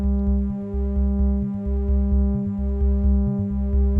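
A steady modular synthesizer tone with a pulsing low bass pattern repeating about once a second, smoothed by a wash of reverb, loud and continuous.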